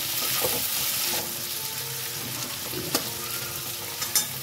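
Three medium onions, chopped, fry in a pan over medium-low heat, giving a steady loud sizzle with a few sharp stirring scrapes and clicks now and then.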